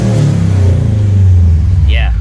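Scion FR-S four-cylinder engine fitted with an ISR single-exit exhaust, revved up toward 5,000 rpm in one loud, sustained, droning rise close by, with a voice speaking over it.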